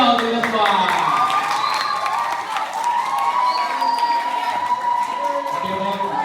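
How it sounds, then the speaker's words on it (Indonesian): Lively audience at a community talk on social media trends, clapping and cheering with shouts and whoops mixed into a loud crowd, steady for several seconds with voices calling out over it. "Oke, tepuk tangan dong untuk kita semua."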